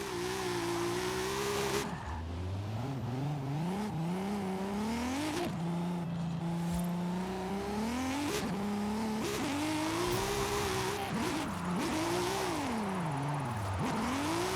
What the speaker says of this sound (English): We'll do this drift zone a little bit